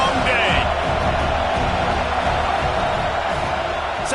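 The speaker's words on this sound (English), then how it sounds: "This crowd, full throat, splitting the eardrums and letting them know it's going to be a long day." Loud, continuous roar of a football stadium crowd cheering at full throat during a game, a dense, steady wash of voices with scattered whoops filling the whole stretch.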